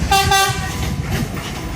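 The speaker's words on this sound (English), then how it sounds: "So there's a train coming in," A train pulls into Tres Rios, Costa Rica, sounding two short horn toots near the start, then a steady rumbling roll of rail cars close by buildings, with no talking.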